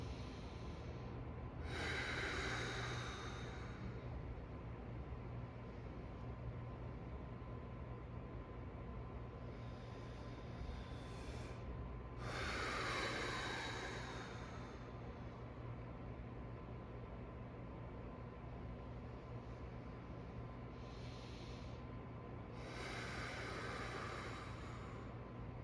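Slow, deep breaths during a back-pain rehabilitation exercise come as three long airy inhales spaced several seconds apart over a low, steady background hiss, close and fairly quiet, with no talking.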